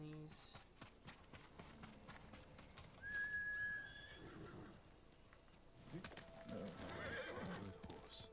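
Horse in the Ghost of Tsushima video game whinnying amid hoofbeats and game ambience, fairly quiet, with a short whistle-like tone partway through and someone talking over it.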